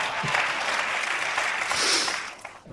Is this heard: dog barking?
no